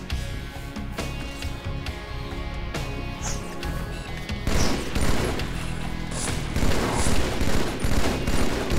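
Gunfire in the Halo 2 video game, rapid bursts of shots and booming blasts that grow louder and denser partway through, continuous and close with no talking.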